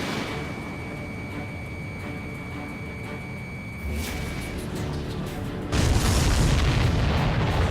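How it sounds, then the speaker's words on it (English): A supply ship explodes in the flight combat game Ace Combat 7, with deep booming blasts rising over a steady drone of jet engines. A second, louder burst follows near the end. "Did you see that explosion? Looks like that's one of them down."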